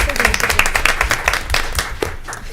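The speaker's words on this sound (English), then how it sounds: "If we could all give them a round of applause." Applause at a school board meeting, a room of people clapping in a lively, irregular patter of distinct hand claps, close and fairly loud, with some voices mixed in.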